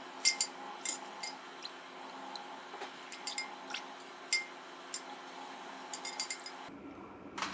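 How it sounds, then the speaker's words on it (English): A spoon stirs goat's milk in a pot on a stove over medium heat, giving quiet irregular clinks and scrapes against the metal, close and soft, with a faint steady hum underneath. "just continue to stir it on medium heat so you don't scorch it"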